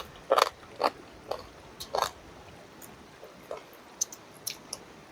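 Crisp bites and crunchy chewing at a riverside campsite in Taoyuan's Fuxing district, several sharp close crunches early on, then softer, sparser chews over a quiet background.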